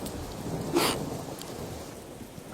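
Steady rain hisses softly, with a brief louder gust or rumble near the start, faint and even throughout with no voices.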